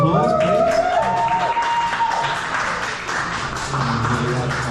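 A crowd at an SCA barista competition heat in Edinburgh applauding steadily, a sustained wash of clapping with some voices and cheering mixed in.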